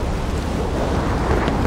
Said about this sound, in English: Oh, is there another storm picking up?